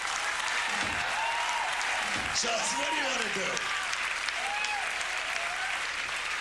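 Audience applause for singers at a live music performance, a continuous broad wash of clapping throughout, with someone speaking over it near the middle.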